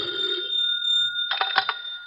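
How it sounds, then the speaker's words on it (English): An old-style telephone bell rings in a room in New York, a steady metallic trill that stops before the receiver is picked up with a clatter, with no one speaking. "Zellschmidt knows nothing of these things when he answers the phone in his room in New York."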